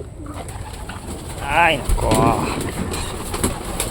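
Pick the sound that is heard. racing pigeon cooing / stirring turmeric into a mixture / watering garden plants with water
racing pigeon cooing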